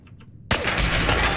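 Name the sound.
crossbow shots in Fallout 4 video game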